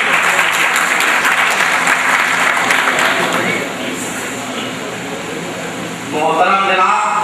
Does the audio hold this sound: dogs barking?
no